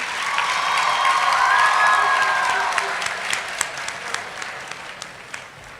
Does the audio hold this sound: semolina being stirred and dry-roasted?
no